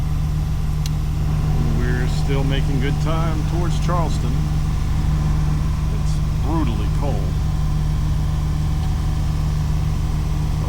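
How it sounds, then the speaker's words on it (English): Sailboat engine running steadily at night, offshore on a passage toward Charleston, a constant low drone throughout while someone talks over it. "As you can hear, the engine is running."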